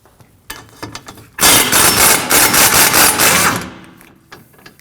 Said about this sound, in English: We'll go ahead and remove the strut bolt with a 24mm.